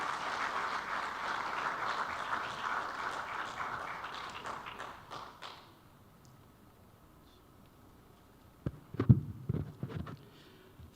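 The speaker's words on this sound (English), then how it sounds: "Shall we welcome him with a round of applause?" Forum audience at the Kofi Annan Peace and Security Forum applauds to welcome a guest of honor, a broad round of clapping that fades out after about five seconds, followed by quiet and a voice starting to speak.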